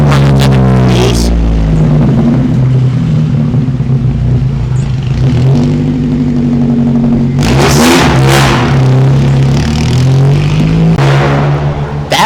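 A truck engine revs hard and loud nearby, holding a deep droning tone with rising and falling pitch, and a louder surge partway through as it passes.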